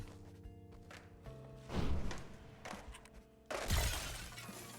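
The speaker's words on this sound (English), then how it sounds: "I'm shattering." In the video game Skate Story, a character shatters like glass, giving two loud crashing bursts of breaking glass over a low musical game soundtrack.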